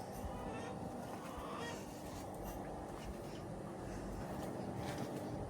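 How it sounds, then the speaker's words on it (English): Chickens in a yard in Ghana at sunset wait for their feed, giving soft, faint clucks and calls against a quiet background. "The chickens are there patiently waiting on their food."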